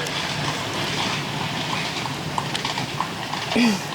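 Horse hooves clip-clop at a steady walking pace, moderately close, over a busy outdoor background in Burkes Garden, Virginia, with a brief low tone near the end.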